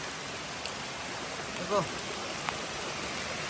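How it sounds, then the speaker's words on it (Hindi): Steady rain falls beside a river, a dense even hiss with water flowing underneath, and a brief voice speaks once midway. "और बारिश भी गिरती है"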